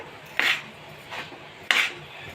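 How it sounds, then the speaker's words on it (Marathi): A utensil scrapes and stirs a chana dal and jaggery filling in a pan with three distinct strokes, close and fairly quiet, with a soft background hum between them. "गूळ टाकल्यानंतर पुरण सारखं ढवळत राहायचं आहे आपल्याला"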